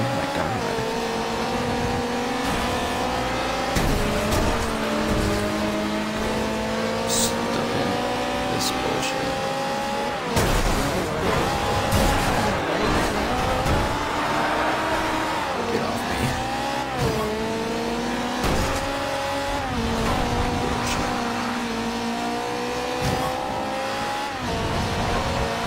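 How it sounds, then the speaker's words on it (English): A Nissan GTR supercar driving on a dark road at night, its engine droning and shifting in pitch with repeated revs and gear changes, loud and close throughout, with brief tire noise and voices mixed in. "GTR, dude."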